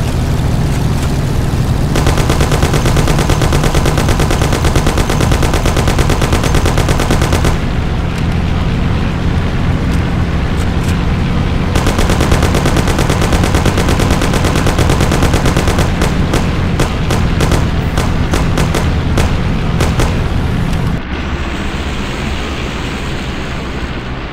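Sustained, loud gunfire in the 1930s gangster game Mafia: dense automatic bursts and rapid shots rattle almost continuously for a long stretch, with a brief change in the mix near the end.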